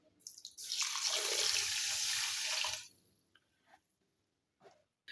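Water poured into orange juice and sugar to make orange squash, a steady splashing pour lasting a couple of seconds, close and fairly loud, then a few faint clinks and drips.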